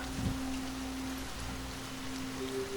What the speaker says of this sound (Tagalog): biglang bumagsak ang malakas na ulan sa gubat kung saan namamasyal si Mika